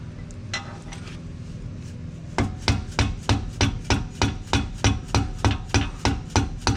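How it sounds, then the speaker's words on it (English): A hammer pounds wheel-bearing races and shims into a Ford Fox-body rear axle during a 4.11 gear install, in a steady series of about fifteen sharp, ringing metal strikes, each evenly spaced, close and loud. "Use a race holder to pound those shims in."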